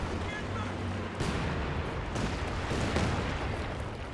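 Rocket artillery firing in Company of Heroes 2, a string of sharp launches and booming impacts over steady battlefield rumble, with someone talking over it.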